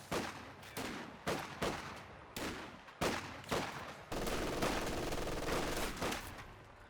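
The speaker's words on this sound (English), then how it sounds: "So shots flying at the church" Gunfire at a church in Company of Heroes 2, a series of distinct loud shots at irregular intervals, then a sustained burst of rapid machine-gun fire.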